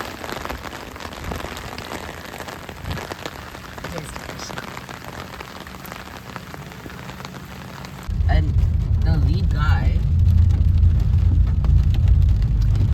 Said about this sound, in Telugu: హెవీ స్టామ్ ఉంది వర్షం ఉంది